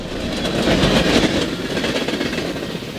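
A cargo train rolls past with a steady, dense rumble and rattle of rail cars, loud and continuous throughout with no voices.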